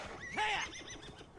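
A horse in the video game Assassin's Creed Valhalla gives a short, loud whinny with a falling pitch, followed by softer snorts, and no speech.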